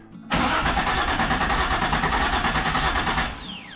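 A neglected 1977 Datsun 280Z six-cylinder engine cranks briefly and then fires up for the first time, running loud and close with a rough pulsing idle before the revs drop away.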